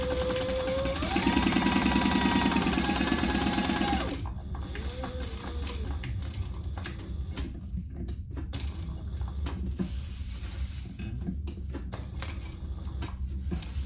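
Sewing machine running in a steady burst while stitching two rows of fabric on a triple-zip crossbody bag, loud and close for about three seconds, then softer mechanical handling and clicks.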